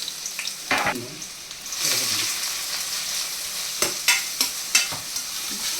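Sliced onions sizzle steadily in hot oil for an omelette curry, with a few sharp scraping stirs of a spatula against the pan near the end; no talking.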